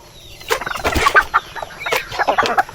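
Farm fowl, Peking ducks and heritage chickens, cluck and chatter close by in a busy, overlapping flurry of short calls.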